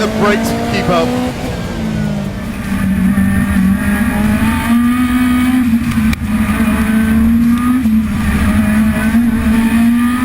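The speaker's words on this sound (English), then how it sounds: "The engine is just incredible. What an engine." A Group B rally car engine roars at speed, a loud sustained drone rising and shifting in pitch through gears, with people talking faintly underneath.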